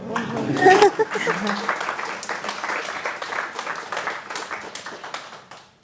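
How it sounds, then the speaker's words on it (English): Audience applause in a masterclass session, a broad wash of clapping that swells and fades over several seconds, with a voice speaking over the start. "I'd like that to deserve a round of applause."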